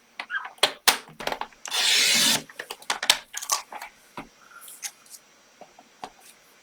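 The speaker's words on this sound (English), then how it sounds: "I'll trim it at 1 inch and see." Paper being trimmed for a handmade card, with a sustained sliding cut followed by scattered clicks, taps and rustles of handling close by.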